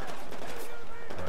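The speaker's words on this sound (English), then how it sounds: "There's all kinds of bullets flying around us." Rapid gunfire crackles through a shooter video game match, bursts of shots layered thickly with players talking over it.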